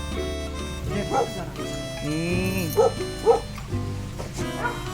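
Several dogs on a rural property in Jeongseon, where small pet chickens are raised, bark, yip and whimper in short bursts at moderate distance over a steady background hum.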